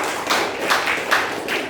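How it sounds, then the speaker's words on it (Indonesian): A group claps together for a team's score at a school quiz competition, several loose bursts of hand claps rising and falling in waves, fairly close and moderately loud. "tepuk tangan"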